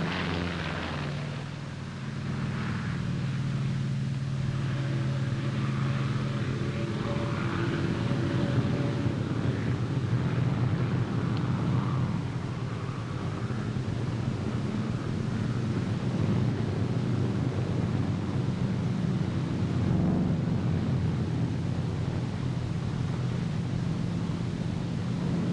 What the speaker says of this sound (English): You're flying your 47 down the runway.